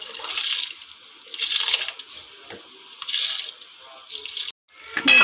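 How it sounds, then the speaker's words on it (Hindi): Water heating in a cooking pot for chicken yakhni pulao, a bubbling, hissing wash that swells and fades in several surges, fairly close, then cuts off briefly near the end. "ये हमारा पानी पकना शुरू हो गया है।"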